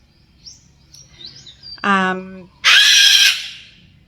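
A pet bird squawks: faint chirps and a short harsh call, then a loud, piercing screech, close by in a quiet indoor room.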